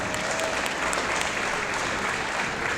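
A crowd gives a graduate named Alice a round of applause for her accomplishment, a full, thick burst of many hands clapping that stays loud and constant throughout.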